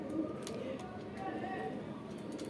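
Rampuri pigeons cooing softly in a quiet coop, low throaty coos repeating faintly in the background with a voice talking over them.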